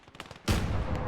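A single sharp sniper rifle shot in the World War II game Gates of Hell: Ostfront, loud and close, with a long rolling echo after faint earlier rattling of distant fire.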